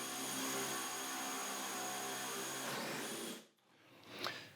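A power drill with a spade bit whines steadily as it bores into wood, then winds down and stops, followed by a brief clatter.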